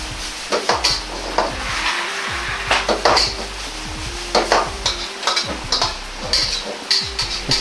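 Chinese-style meat omelette frying in oil in a wok, with the pan tossed and a spatula scraping and pressing the egg: repeated sharp metallic clanks and scrapes in an irregular rhythm over a steady sizzle, close and fairly loud.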